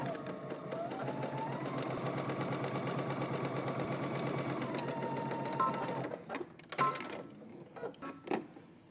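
Sewing machine stitching a 5/8-inch seam on a DVF x Vogue V2000 wrap dress, a steady loud mechanical whir for about six seconds that stops, followed by brief handling clicks and light rustling.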